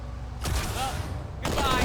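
Gunfire in Halo 2 comes as two loud sustained bursts of shooting with a short gap between them, dense and close, with chatter mixed in.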